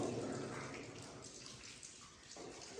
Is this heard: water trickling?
yes